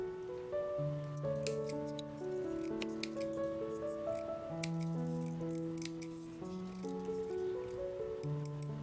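Scissors snip in quick, irregular cuts close up, played over soft sustained background music.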